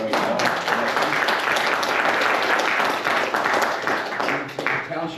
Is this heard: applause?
yes